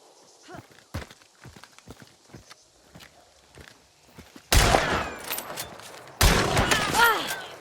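Gunfire in the video game Hunt: Showdown arrives as two loud bursts of sharp shots in the second half. It follows several seconds of quieter footsteps and clip-clop sounds while players talk.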